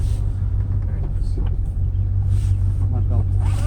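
A Lincoln Mark VIII's engine idles just after starting, a steady loud low rumble filling the whole stretch, with a person talking over it.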